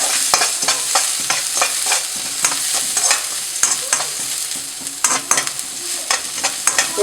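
Onions dry-roast in a pan with a continuous soft sizzle. Repeated scraping strokes of a spoon stirring against the pan sound close and loud throughout, with no talking.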